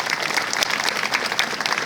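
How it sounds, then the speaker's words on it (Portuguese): An audience at a poetry event at the OAB-PI bar association breaks into lively applause, dense overlapping claps that continue steadily for about two seconds. "Eu queria uma salva de palmas para..."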